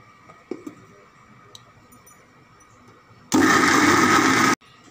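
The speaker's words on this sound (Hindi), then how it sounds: "मैं यहाँ पर मिक्सी के जार में ये सारे छोले के दाने डालकर इनको थोड़ा सा मिक्सी में बस ग्राइंड कर लूँगी।" An electric mixer grinder spins dry chickpeas in its jar, a loud harsh whirring burst lasting just over a second after a few quiet kitchen clicks and taps.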